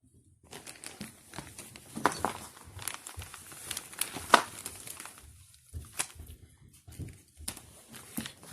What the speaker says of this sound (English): Okay, they sealed it, so let me just cut it open real quick.